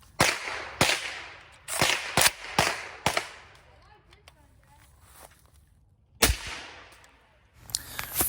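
A suppressed PSA AR-10 rifle in .308 fires about eight sharp, loud shots outdoors, first in a quick irregular string, then a pause and two more reports after a quiet gap.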